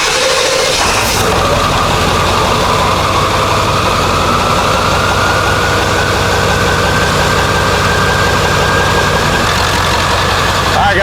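A Ford 7.3L Powerstroke diesel truck engine with a new high-pressure oil pump cranks and catches, then settles into a steady, loud, rumbling idle that continues throughout; check engine light on.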